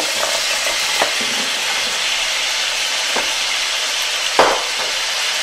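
A leg of lamb, salted, peppered and flambéed with Armagnac, sizzles steadily in a pan as garlic is added. The frying hiss is loud and continuous, with a few soft knocks and a brief stir near the end, and no voices.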